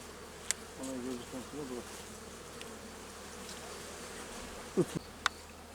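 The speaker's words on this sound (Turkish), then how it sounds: "Bunlar gördüğümüz arılar." A faint, steady drone of honey bees at the hive hums through the whole stretch, with a few brief louder buzzes passing close near the end.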